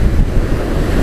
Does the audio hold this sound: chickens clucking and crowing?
no